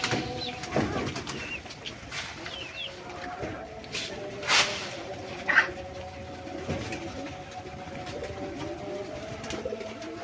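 Pigeons coo softly in low, repeated murmurs amid a busy outdoor background, with a few sharper bird calls breaking through.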